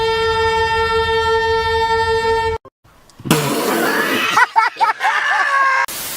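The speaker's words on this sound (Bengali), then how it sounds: "ট্রেন হরেন দিয়ে গাড়ি সরায়।" A train horn blasts in a long, loud, steady multi-tone note, then after a brief gap the rumble and clatter of the train and other noise follow, with a voice heard over part of it.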